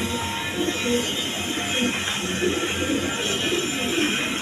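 Red Gola pigeons coo in low, repeated rolling calls over a constant dense background of many birds and loft noise.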